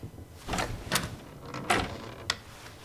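A door opening in the White Night horror game, a few short creaks and clunks spaced out over a couple of seconds, fairly quiet and heard alone.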